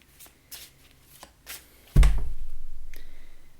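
Tarot cards riffle-shuffled up close: a few soft taps and shuffles, then a loud fluttering riffle that rattles on steadily to the end.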